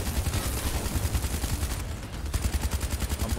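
Turret gunfire in Call of Duty Black Ops 3: a loud, steady stream of rapid automatic shots in an even rhythm, briefly dipping near the middle before resuming, with no talking.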